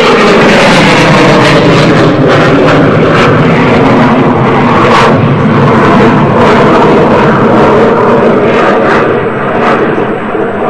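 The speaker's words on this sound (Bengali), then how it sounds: "লক্ষ্য রাখুন আপনাদের ডান দিকের আকাশে বিমানটি এগিয়ে আসছে একটি হাফ কিউবনেট প্রদর্শনের জন্য।" A military jet roars past low and loud during a Victory Day parade air show while flying a half Cuban eight, its dense engine rumble filling the air without pause.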